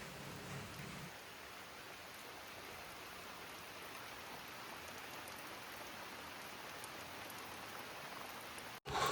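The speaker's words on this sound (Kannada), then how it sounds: "ಈವ್ನಿಂಗ್ ಅಷ್ಟೊತ್ತಿಗೆ ಮಳೆ ಬರೋಕ್ಕೆ ಸ್ಟಾರ್ಟ್ ಆಯಿತು" Evening rain falls steadily, a dense even hiss of drops on surfaces lasting throughout, moderately distant, ending abruptly with a brief cut and louder noise.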